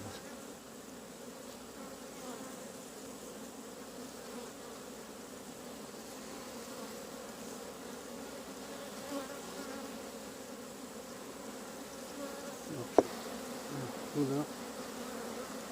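Honeybees swarm around double-storey hives while being fed and given foundation comb, a steady close drone filling the whole stretch, with a single sharp knock late on and no talking.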